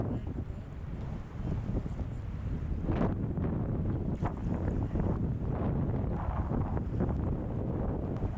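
Strong wind blows outdoors by the Middle Fork Salmon River in Idaho, a steady low roar buffeting the microphone with gusts and faint rustling throughout.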